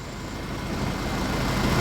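Tractor engine accelerating in Farming Simulator 2011, a dense low rumbling drone rising steadily in loudness over a short stretch, heard alone.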